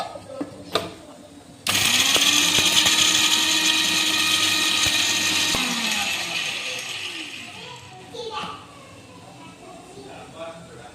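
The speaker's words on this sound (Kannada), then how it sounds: "ಇದನ್ನೀಗ ಮಿಕ್ಸಿಗೆ ಹಾಕೊಂಬರೋಣ ಅಂತ" A kitchen mixer grinder blends sambar ingredients for idli and sambar, its loud steady whine starting sharply after a few quiet seconds, running several seconds, then fading down as it winds off.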